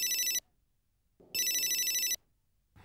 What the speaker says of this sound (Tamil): ஒரு நிமிஷம்ப்பா, செல்போன் அடிக்குது.